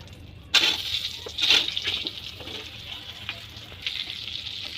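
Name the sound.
cut brinjal frying in oil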